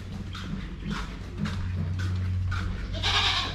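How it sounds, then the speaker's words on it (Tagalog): Goats bleating repeatedly beside a farmhouse next to a field, several calls close by in a rhythmic series over low outdoor background noise. "Madami yung kambing niya dito."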